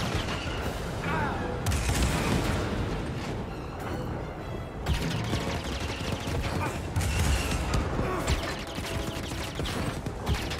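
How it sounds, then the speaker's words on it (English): AT-AT cannons fire in Star Wars: Jedi Fallen Order, a dense barrage of loud booming blasts and explosions rolling on continuously, with voices now and then over the gunfire. "Feel my cannons, man."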